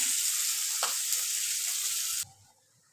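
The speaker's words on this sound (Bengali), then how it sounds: "পেঁয়াজটাকে ভালো করে ভাজা ভাজা করে নেব, লাল লাল করে পেঁয়াজটাকে ভেজে নিই।" Onions fry in oil in a pan, browning with a steady close sizzle for about two seconds that then cuts off abruptly into near silence before a brief noise at the end.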